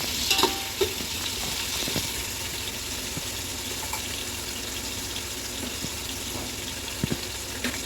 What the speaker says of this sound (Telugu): ఇప్పుడు రెండు బాగా ఫ్రై అవ్వాలి.